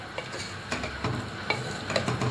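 Scraping and clinking of a spoon stirring soup in a pot, in a few uneven strokes over a faint sizzle.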